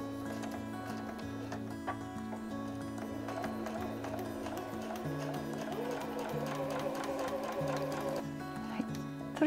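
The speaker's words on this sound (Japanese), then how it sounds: "で1センチ先に針を下ろして返し縫いからスタートします。" A sewing machine stitching a pouch seam, starting with a backstitch, makes quiet rhythmic mechanical chugging bursts that pause and restart, steady and close.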